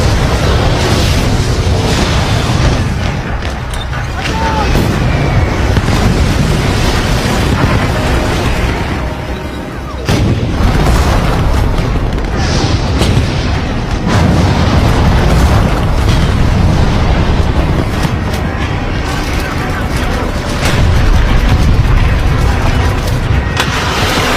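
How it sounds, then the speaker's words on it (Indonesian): Soviet Katyusha rocket launchers firing on Berlin during the Second World War, a dense, continuous roar of booming blasts and explosions, loud and sustained throughout. "mulai melakukan serangan brutal ke Berlin dengan meluncurkan senjata andalan mereka, yaitu Katyusha"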